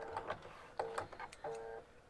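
Sewing machine slowly stitching through quilt fabric, a few short bursts of mechanical whirring and ticking with brief pauses between, quiet and close.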